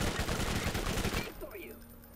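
A rapid burst of gunfire from a gun in the video game Borderlands, dense close shots for just over a second, then fading into quieter game sounds with a voice.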